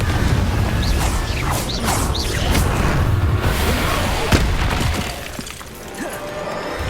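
Incendio and Confringo spells cast in Hogwarts Legacy: whooshing fiery blasts, crashing and shattering impacts in quick succession, loud and busy, easing off toward the end, with no clear talking.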